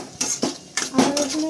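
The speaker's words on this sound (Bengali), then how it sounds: "ভালো করে নেড়ে নিতে হবে মশলাগুলোর সাথে" A utensil scrapes and knocks around a pot while spice masala is stirred, giving several close, distinct metallic strokes in an uneven rhythm over a faint sizzle.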